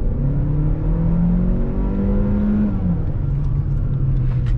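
Hyundai New Tucson turbo pulling away from a stop in city traffic, its engine note rising steadily and somewhat sluggishly, loud and continuous inside the cabin with no speech.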